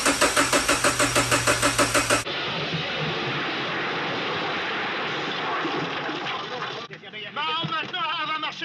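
Subaru Legacy 2.5 GT turbo engine, 265 hp, cranking in rapid rhythmic pulses before catching and settling into a loud steady idle, with voices briefly heard near the end.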